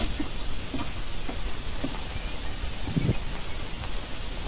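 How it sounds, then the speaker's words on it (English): Steady rain falling in the Green Hell survival video game, a soft continuous patter with scattered drops, alone with no talk. "Ah, shoot, rain is falling."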